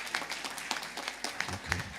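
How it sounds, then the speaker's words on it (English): Small group at a launch event in Uganda clapping for a representative, scattered uneven hand claps with a few sharp close ones, while a voice murmurs faintly underneath. "Let's clap for representative of AAR."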